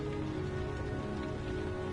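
Steady rain falls in a video game, a continuous even hiss of drops on surfaces with a low ambient hum beneath, filling the whole stretch without pause.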